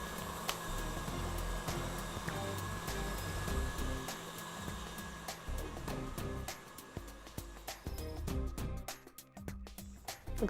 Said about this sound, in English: put it in the mixer and I will mix it until it's cool before I add the butter